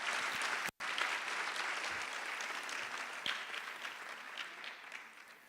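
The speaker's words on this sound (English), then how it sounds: "Can we give him another round of applause?" A university audience claps steadily through an elections statement launch, a moderate wash of applause with a brief gap early on and scattered sharper claps, fairly even and without speech.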